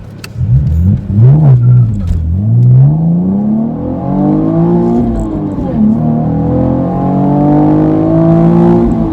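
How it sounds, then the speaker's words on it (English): A 2016 Chevrolet Camaro V6 with a six-speed manual launches hard, its engine revving loudly and climbing through the gears in long rising pulls, recorded from inside the car. "All right, here we go. Let's do a launch too."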